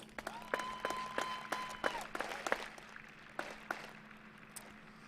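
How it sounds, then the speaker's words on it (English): Faint, scattered clapping from a commencement audience at the Mona Shores Class of 2021 ceremony: a few sparse, irregular claps, distant and thin, over a low steady hum. "Give them a round of applause."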